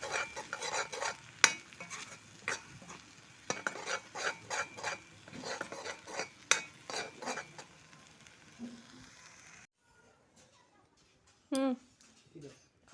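Egg and tomato mixture frying in a pan, with rhythmic spatula scrapes and clinks over a low sizzle, followed by a near-silent stretch and a brief voice.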